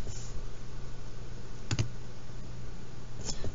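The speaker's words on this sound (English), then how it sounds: "now after opening up your metronome, which should be sounding like this, steady clicking" Metronome ticking at a steady tempo, heard as two sharp, isolated clicks roughly a second and a half apart over a faint low hum, with no talking.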